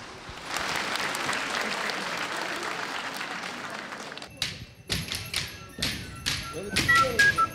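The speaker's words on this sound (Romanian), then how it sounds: "Haideți să-i aplaudăm!" Audience applause at a Romanian folk festival of customs and traditions in Iași county: steady crowd clapping for about four seconds, then broken into sharp scattered claps and thumps, fairly quiet overall.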